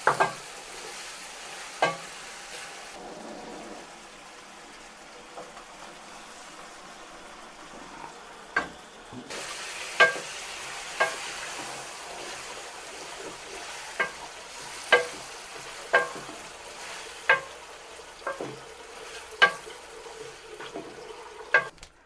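Bhindi gosht with mutton masala frying lightly in a pan: a low continuous sizzle broken by regular sharp scrapes of a spoon against the pan, roughly every second or two, with no voices.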